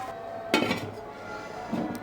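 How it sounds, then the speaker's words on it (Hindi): Lid being placed on a pot of semolina and milk halwa cooking on a low flame, a metallic clank followed by a softer clink a moment later, close by. "अब हम इस वक्त इसकी फ्लेम जो है बिल्कुल लो कर देंगे और 5 मिनट्स के लिए इसको ढक के पकने देंगे"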